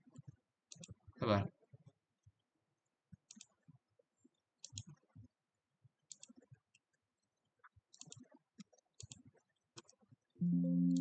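Mouse and keyboard clicks during repeated copy and paste on a computer, sparse quiet clicks spread in short bursts, with a louder burst near the start and a tonal sound at the end.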